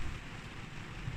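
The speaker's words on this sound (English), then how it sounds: "Look at this rain, look." Steady rain falling outdoors, a continuous even hiss with soft low rumble and no voices, close and moderately quiet throughout.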